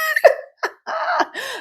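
A few short, sharp coughs and throat sounds in quick succession, close and fairly loud, with brief silent gaps between bursts and no talk around them.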